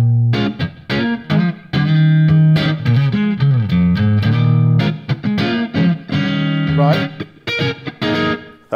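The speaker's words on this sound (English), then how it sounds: "So this is a full sort of guitar sound, sort of ready to go." Distorted electric guitar through an amp with effects on a Universal Audio Arrow Thunderbolt audio interface with DSP, chords and single-note phrases ringing with reverb and chorus, played loud and up close.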